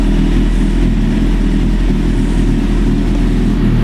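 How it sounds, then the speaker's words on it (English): A black 2008 Suzuki GSX-R1000 sport bike with a Brothers aftermarket exhaust running at a steady idle, a loud, close, continuous engine rumble with no revving and no talking. "we'll fire it up now so you can hear it run. Brothers pipe sounds really nice on it"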